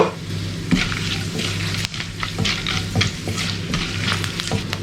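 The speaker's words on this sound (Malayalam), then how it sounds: "ഓയിൽ ചൂടായിട്ടുണ്ട്. അതിലേക്ക് ഒരു 3 ഗ്രാമ്പ് ഇട്ട് കൊടുക്കുന്നുണ്ട്." Cloves, cinnamon, cardamom, cumin, black pepper and dried red chillies sizzle and fry steadily in hot oil for a kadai chicken, a close continuous crackle with occasional stirring scrapes and no talk.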